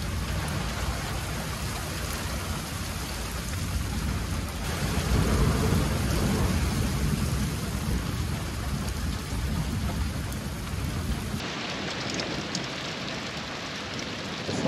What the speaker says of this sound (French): il pleut vraiment très fort, il y a beaucoup de tonnerre